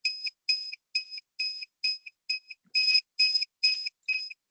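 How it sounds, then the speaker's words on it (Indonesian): An electronic buzzer alarm beeping in a steady rhythm, about ten short pulses in a row, loud and alone with no voices. "Dan juga buzzer berbunyi"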